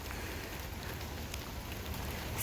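Rain falls on a hiking trail beside the Loxahatchee River, a steady, soft, even hiss with no talk.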